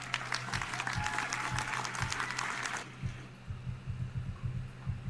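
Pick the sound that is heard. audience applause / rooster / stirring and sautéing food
audience applause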